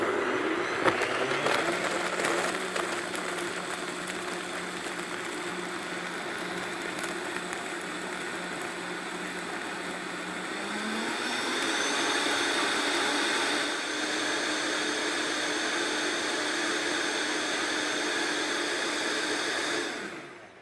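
Vitamix Professional Series 500 blender motor whirring loudly nearby, humming steadily before ramping up in pitch and holding at full speed, then cutting off abruptly at the end.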